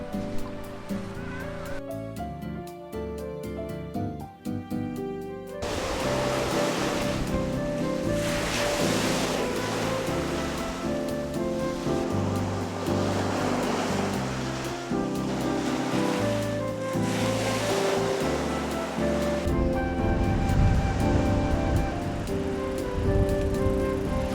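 Ocean waves break on the white sand of Shirarahama beach at sunset, repeated swelling washes of surf arriving every few seconds, loud and close, with some music at the start.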